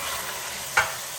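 Spices stirred into meat and turnip frying in a pot, a continuous close sizzle with one brief scrape of the spoon partway through and no talk.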